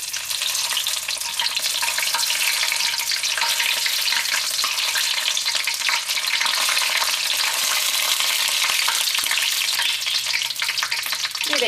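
Dried red chillies fry in hot oil with curry leaves while a fish pickle is cooked, giving a continuous close, dense sizzle and crackle with no voices.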